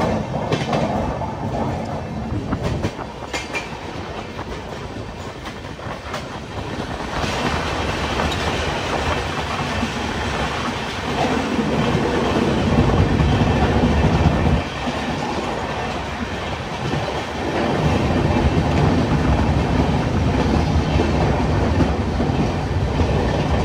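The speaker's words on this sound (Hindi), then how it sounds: "अभी जम्मू तवी से डिपार्ट कर चुकी है हमारी ट्रेन" Swaraj Express passenger train running after leaving Jammu Tawi, heard from on board: a steady, loud rumble and clatter of wheels on rails with rising and falling intensity throughout.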